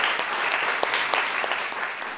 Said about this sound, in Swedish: En stor applåd till våra nya doktorer.